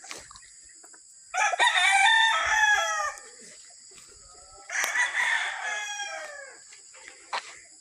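Fighting rooster crowing twice on a gamefowl farm, two full cock-a-doodle-doo calls a few seconds apart, fairly close, with faint clucks and rustling between.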